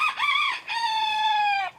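A rooster crows loudly and close by in a backyard chicken coop with two roosters, a short rising call followed by a long sustained cock-a-doodle cry, with no talking.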